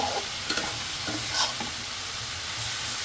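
Vegetables, including potato, eggplant and flat beans for a rohu fish curry, fry in oil in a pan, giving a steady close sizzle broken by a few scraping stirs.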